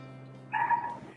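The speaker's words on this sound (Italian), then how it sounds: "Come si chiama questo cagnolino che si sentiva in sottofondo?" A small dog gives one short, high yip-like bark in the background, faint and brief, following a quiet stretch with a low steady hum.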